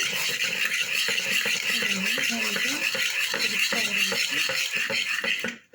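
A spoon scrapes and clinks against a pot while sugar is stirred into milk for dudh peda, with steady metallic scraping strokes at close range under a person talking.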